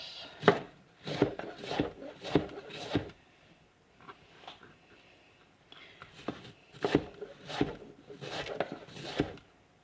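Knife cutting through pork steaks for green chili pork steaks on a board, a run of sharp, close slicing strokes in two bursts with a brief pause between them, and no talk.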